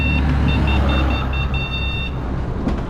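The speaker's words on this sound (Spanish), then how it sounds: "¿Sentiste que les toqué bocina?" A car horn sounds in a series of short, repeated beeping toots over steady street and traffic rumble, fairly loud and close, with no voices.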